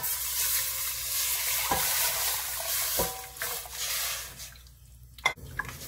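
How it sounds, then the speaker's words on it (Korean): Water poured into a pan of stir-fried beef for Korean beef soup, a dense hissing sizzle with several sharp knocks of utensil on pan, the sound thinning toward the end. "여기에 물을 부어줍니다"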